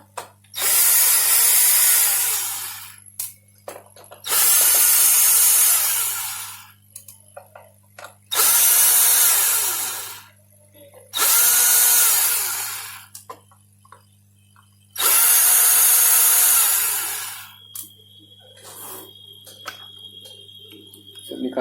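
A power screwdriver backs screws out of a Lenovo IdeaPad 110 laptop in five loud whirring bursts of two to three seconds each, separated by short pauses with faint handling clicks and a low steady hum underneath.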